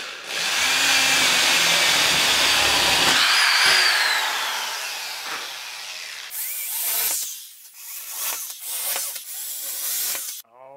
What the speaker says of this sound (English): Just plugged in my new jigsaw for the first time.